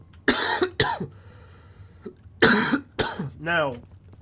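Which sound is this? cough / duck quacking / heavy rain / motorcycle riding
cough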